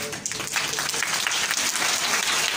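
Group hand clapping in a rhythmic clapping exercise, a dense, bright wash of many hands striking together, loud and close, filling the whole stretch without pauses or voices.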